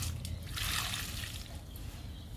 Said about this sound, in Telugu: పర్పుల్ హార్ట్కి ఇచ్చేద్దాము లిక్విడ్ని